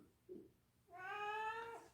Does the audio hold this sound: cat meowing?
yes